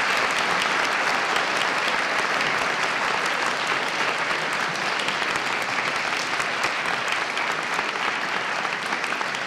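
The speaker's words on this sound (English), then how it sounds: "Let's have a round of applause for your Colorado Supreme Court." A high school audience gives a long, even round of applause for the Colorado Supreme Court, dense clapping filling the room continuously for nearly ten seconds with no talk.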